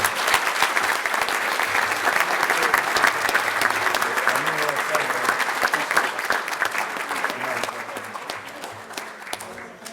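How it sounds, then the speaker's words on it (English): An audience at a sports breakfast applauds loudly and steadily, many hands clapping in a dense patter that fades slightly toward the end. "Let's give a big round of applause for the scholars."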